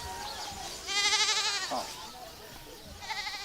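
A goat bleats loudly and nearby at an outdoor gathering, one long wavering cry that rises in the middle, then a shorter bleat near the end, over faint background murmur.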